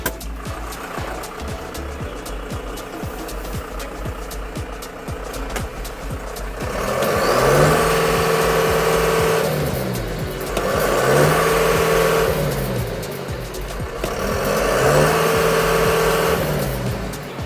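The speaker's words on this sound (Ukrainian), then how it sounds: "рівно і тихо працює двигун" A John Deere 6420 S diesel tractor engine idles steadily, then revs up three times in rising and falling surges, each lasting a couple of seconds.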